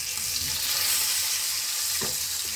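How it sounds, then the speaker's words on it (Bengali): Fish frying in a pan in a home kitchen: a steady, close hiss and crackle of oil, continuous throughout with a few small pops, and no talking. "মাছটা ভাজি করে পেঁয়াজ দিয়ে ভুনা করে দেবো। মাছ ভাজি করা হলো"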